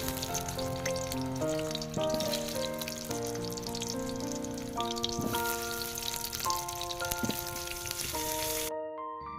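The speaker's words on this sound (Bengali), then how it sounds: "এখন একটু পাঁচ ফোড়ন শুকনো লঙ্কা তেজপাতা দিয়ে এখন পেঁয়াজটা একটু ভাজতে দিয়েছি" Onions fry in hot oil with panch phoron, dried chilli and bay leaf, giving a steady crackling sizzle beneath prominent tonal background music that cuts out at the very end.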